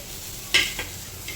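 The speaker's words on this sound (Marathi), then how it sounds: "इकडे भाजतोय कांदा" Onion roasting in a pan in a home kitchen, giving a brief sizzling burst with a softer follow-up crackle over a low steady background hiss, close by.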